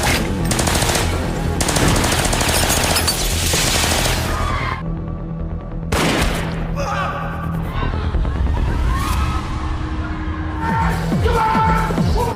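Film scene of a guard shooting a waiter at a party, then chaos breaking out, with loud rapid bursts of gunfire and booming impacts, a sudden quiet gap, then scattered shots and commotion under a narrating voice.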